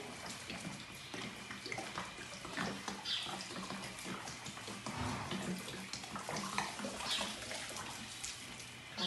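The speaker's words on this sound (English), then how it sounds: "I'm going to take a gallon of water. I'm going to pour this all over the hay." A gallon of water poured over hay loaded in a hay steamer, a soft continuous splashing and trickling of liquid soaking into the hay, close and fairly quiet, with no talk.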